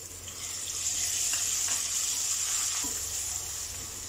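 Garlic ginger paste frying in hot oil with golden-brown onions for chicken aloo salan, giving a steady, close, hissing sizzle that holds evenly throughout.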